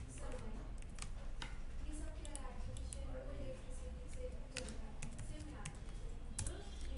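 Quick, light keystrokes tap on a computer keyboard in an irregular run of clicks, fairly close but faint, over a low background hum, with no speech.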